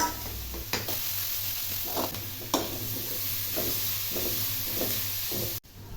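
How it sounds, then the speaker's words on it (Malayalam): Crushed ginger, garlic and kanthari chilies sauté in a hot pan with oil, giving a steady close sizzle broken by a few scraping stirs. "ഇഞ്ചിയും വെളുത്തുള്ളിയും ചതച്ചും കൂടി അതിനകത്തോട്ട് ചേർത്ത് ഒന്നുകൂടെ വഴറ്റാം"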